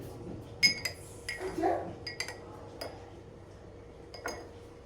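Honey being stirred into food in a plastic container, with a run of light clinks and taps of a utensil against the container, fairly close, while a voice talks softly in the background.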